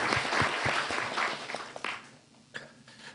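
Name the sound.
congregation applauding youth students in church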